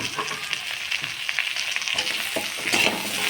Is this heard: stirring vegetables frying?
yes